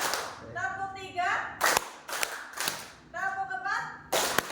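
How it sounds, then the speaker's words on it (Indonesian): Classroom clap-counting game: a group of students claps in unison in short bursts on cue, with sharp, loud claps between stretches of a teacher talking. "Coba kita ulangi lagi. Tepuk 1, tepuk 2,"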